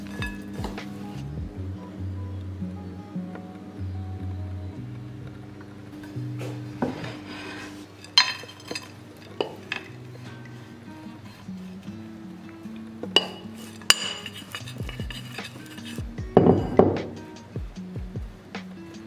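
A utensil spreads a mixture into a tart dish, making soft scraping and occasional clinks against the dish, with quiet pauses and a few sharper knocks toward the end.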